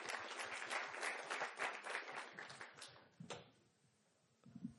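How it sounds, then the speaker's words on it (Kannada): Audience clapping at a Kannada awards summit, a dense burst of applause that fades after about three seconds into near quiet with a few stray sounds. "ಈ ಎಲ್ಲ ಸ್ಪಾನ್ಸರ್ಸ್ಗೆ ಜೋರಾದ ಚಪ್ಪಾಳೆ ಒಂದ್ಸರಿ ನಿಮ್ಮಿಂದ."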